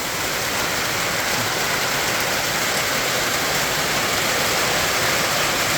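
Heavy storm rain pours down on a pig pen in a steady, dense roar, loud and continuous, with no talking.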